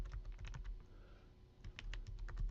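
Quick bursts of keystrokes on a computer keyboard, close and fairly faint, with a pause in the middle before a second run of rapid taps, and no talking.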